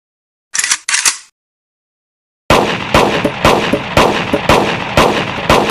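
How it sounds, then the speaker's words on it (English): Rapid bursts of gunfire ring out at a shooting range in a video game, a couple of short shots first, then after a pause a loud sustained volley of repeated blasts. "a shooting range!"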